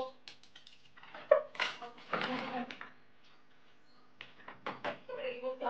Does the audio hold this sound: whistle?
no